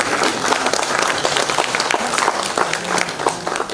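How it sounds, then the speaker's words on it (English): A crowd claps steadily at a high school leadership handover event, dense and loud applause that continues without a break. "Let us give them a more big clap of praise for the good spirit they have presented there."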